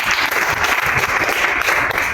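A crowd bursts into sustained applause, many hands clapping together in a loud, dense, continuous roar that holds steady throughout with no talking over it.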